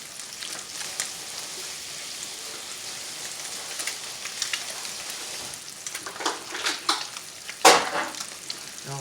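Fish frying in a pan, ready for blackening or turning: a steady hiss and crackle throughout, with brief louder pops and spatters near the end.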